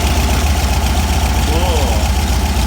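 A VW 1776 air-cooled engine on Empi 40mm dual carburetors idles loudly and close, with a rapid, slightly uneven low throb and a mechanical rattle running steadily throughout.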